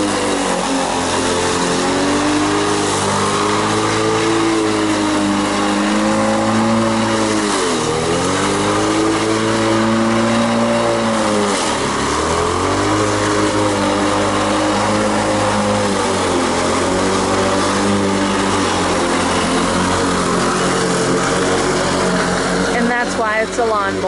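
A Lawn-Boy commercial push mower cuts through long grass, its engine droning loudly close by and dipping and recovering in pitch as it bogs down in the thick growth over repeated passes.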